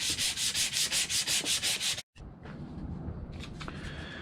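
A horseshoe knife being polished by hand, with about ten quick rhythmic rubbing strokes, close and steady, followed by a brief pause and then looser, scuffing rubs.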